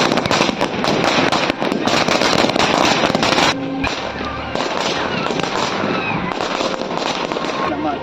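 A string of firecrackers (saravedi) bursting during Diwali in Chennai: a loud, dense, continuous crackle of rapid pops close by, briefly easing before resuming, with people's voices mixed in.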